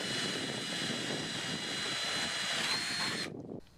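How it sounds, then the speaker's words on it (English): A drill runs through boards with a steady, high-pitched whirring drone, loud and continuous for a few seconds, then cuts off abruptly. "So I'm going to drill them all and then we'll try it out."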